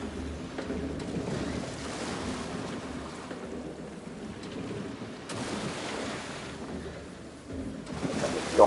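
Water splashes and rushes from a flume ride in Planet Coaster 2, a steady surf-like wash with swelling surges and a louder burst at the end.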